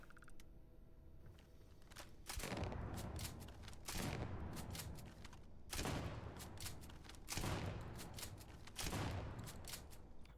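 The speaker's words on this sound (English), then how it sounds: "I want to see how the explosive rounds kind of handle on the 2 variants" Suppressed gunfire with explosive rounds from a Vas31 rifle in Starfield, heard as five or six separate sharp bursts, each with a crackling blast tail, spaced about every one and a half seconds after a quiet opening.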